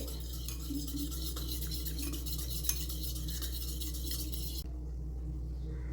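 A spoon stirs custard powder into lukewarm milk, giving soft, continuous scraping and swishing over a low steady hum, with the stirring noise cutting off near the end.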